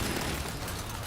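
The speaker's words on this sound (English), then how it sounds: "Throwing flash grenade." A flash grenade goes off in Call of Duty's Verdansk map, a dense noisy burst of loud, broadband rumble and hiss filling a short moment with no voices.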